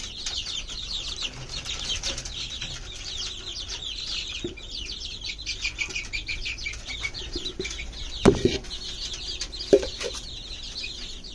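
A flock of chickens, including 25-day-old chicks, clucks steadily on a poultry farm at feeding time, a dense chatter of overlapping calls with a couple of louder thumps and flutters near the end.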